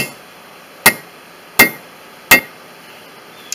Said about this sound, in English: Get your good hammer, and you want to hit that part of it.